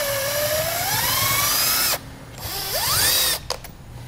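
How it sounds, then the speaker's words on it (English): A power driver with a 1/4-inch bit whines up and down in short bursts as it backs self-tapping screws out of an RV rain gutter, loud and close, with brief pauses between runs. "Let's get those popped out of there. You need a 1/4-inch driver generally."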